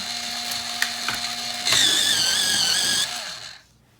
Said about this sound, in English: Give it a quick sharpen.